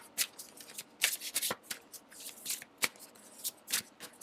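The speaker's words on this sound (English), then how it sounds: "we're going to shuffle a couple of these cards out" Tarot cards are shuffled by hand up close, a run of crisp riffling bursts and soft slaps in an irregular rhythm, separated by brief quiet gaps.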